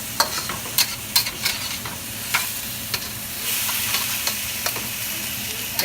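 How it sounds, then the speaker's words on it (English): Mixed vegetables for ham fried rice sizzle steadily in a hot pan while being stir-fried, with sharp clanks of a utensil scraping and tossing them recurring throughout and the frying hiss swelling louder in the second half. "So you add all the veggies together and you stir fry them."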